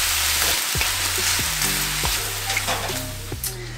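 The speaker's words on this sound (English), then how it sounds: "I'm just gonna add a little splash of water to help everything start to saute" Vegetables seasoned with garlic and onion powder sauté in a pan after a splash of water, a loud, dense sizzle and hiss that continues throughout, broken by a few scraping stirs and soft knocks of a utensil, and no talking.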